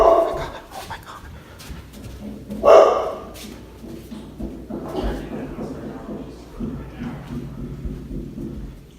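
Two household dogs bark loudly, the sharpest bark near the middle, amid agitated human voices and background noise.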